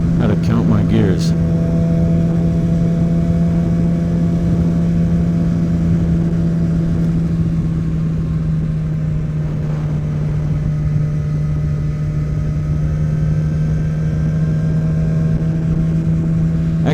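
A Yamaha R6 sport motorcycle engine drones steadily while riding on Mulholland, a loud constant hum with a brief shift of pitch near the start, heard close throughout under wind.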